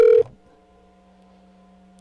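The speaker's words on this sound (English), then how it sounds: "let me call him again, make sure I called the right number, because it's not like Vest to not answer" An outgoing telephone call: a short ringback tone sounds for a moment, then a faint steady line hum remains for the rest of the stretch.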